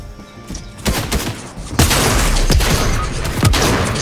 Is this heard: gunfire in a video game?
yes